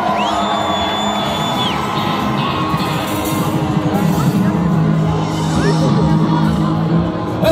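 Live festival crowd at Les Déferlantes in Le Barcarès cheering and whooping through a loud, dense roar, with shouts rising above the sustained wash and music faintly underneath.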